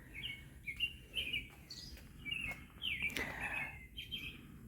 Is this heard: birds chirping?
yes